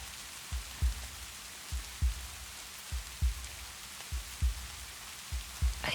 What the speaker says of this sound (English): It's not gonna stop raining anytime soon.